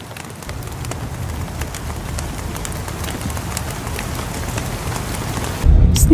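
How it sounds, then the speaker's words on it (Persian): Steady rain falls outside in Toronto, a dense, even hiss of drops on surfaces that continues unbroken throughout, growing slightly louder and heavier near the end. "بیرون بارانی هم است دیگه"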